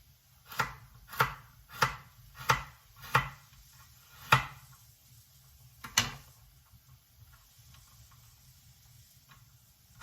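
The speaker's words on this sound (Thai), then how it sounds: "เราก็จะหั่นเป็นรูปหัวใจแบบนี้เนาะ" A knife chopping vegetables such as carrot into heart shapes on a cutting board: seven sharp, crisp chops, six of them in quick steady rhythm, then a pause and one last cut before quiet.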